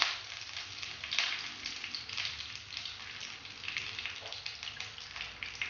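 Curry leaves and dried red chillies crackle in a tablespoon of hot coconut oil with spluttered mustard seeds for Kerala-style buttermilk curry, a close steady sizzle with scattered sharp pops.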